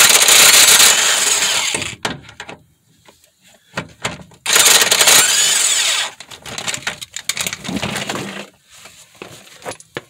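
Pneumatic impact gun spinning off a suspension nut on a Mitsubishi Outlander during control arm work, two loud close bursts of rapid rattling hammering separated by clinks and handling noise of tools.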